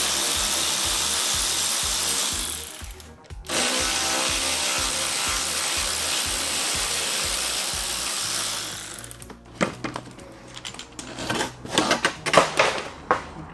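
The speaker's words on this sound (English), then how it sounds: "I can simply undo the two other 10mm bolts that were holding this rear under tray on" A power tool rattles rapidly while undoing 10mm bolts on the rear under tray of a Kia Ceed GT, steady loud buzzing bursts with a short pause, then scattered clanks and handling noises close by.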